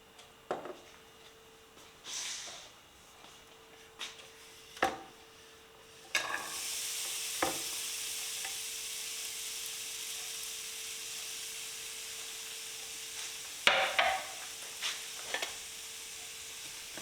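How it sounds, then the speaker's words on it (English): Chopped onion fries in a pan for a vareniki potato filling: a steady, bright sizzle takes over partway through, with scattered clatters and stirring scrapes before and during it. "we're going to fry onion"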